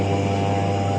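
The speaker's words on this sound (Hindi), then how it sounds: "विमान चालू हो चुका है, रनवे पर खड़ी है" A nine-passenger India One Air airplane sits on the Jamshedpur runway with its engine running, giving a loud, steady drone with a strong low hum that holds unbroken for about a second.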